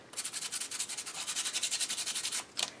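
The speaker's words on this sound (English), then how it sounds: "I can take sandpaper" Sandpaper is rubbed quickly back and forth over a small molded Frozen Charlotte doll that is still a little moist, in a close, soft, rhythmic series of about twenty strokes.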